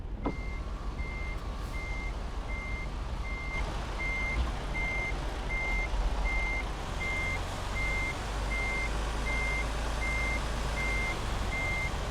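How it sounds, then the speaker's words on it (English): A Freightliner Cascadia truck backs up to a trailer in a truck simulator game, its reversing alarm beeping in a steady, evenly spaced rhythm over a low, continuous engine rumble. "I am actually going to try and back up to this trailer here."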